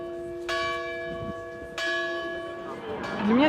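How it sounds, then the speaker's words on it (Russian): Church bells ring out for a large religious procession in Serbia, three distinct clanging strikes, each leaving a long shimmering hum, close and clear, with faint voices mixed in toward the end. "Забили колокола, и грандиозный крестный ход двинулся в путь."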